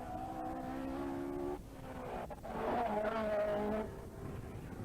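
A rally car from a 1990 Cork 20 stage race drives fast with a strained engine note that climbs and drops across several gear changes, loud and close throughout, with brief tire noise.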